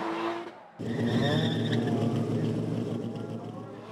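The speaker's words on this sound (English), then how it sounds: "Tyler McQuarrie's going to lead in the Toyota Supra, followed by John Yim in the black Corolla" Drift cars at a Formula Drift event, a Toyota Supra leading a black Corolla, roar past with engines revving and tires squealing in a loud continuous sweep while a commentator talks over it.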